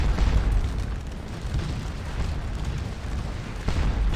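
Napoleonic artillery fire and explosions in the Waterloo battle game Scourge of War, with deep booming rumbles rolling continuously, heavy low-end bursts and a fresh blast near the end, no voices over it.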